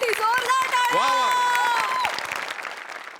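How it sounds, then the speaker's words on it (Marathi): Studio audience at a Marathi comedy show breaking into applause and cheering while a loud, high sung or shouted voice rises over it, the clapping fading slightly toward the end. "या एफर्टसाठी जोरदार टाळ्या"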